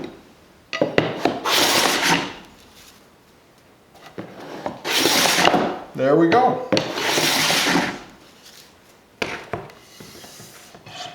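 Bridge City HP-9v2 block plane taking light shaving cuts on wood, a few dry rasping strokes close by that start to skip near the end, with a brief spoken remark between strokes.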